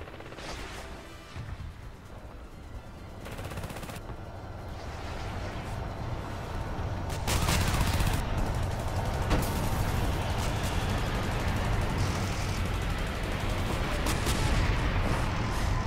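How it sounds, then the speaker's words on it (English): Airstrike explosions and gunfire in the video game Renegade X, a run of booming blasts and bursts of shots that swell louder midway and stay heavy to the end, with a player talking over them. "Airstrike on route."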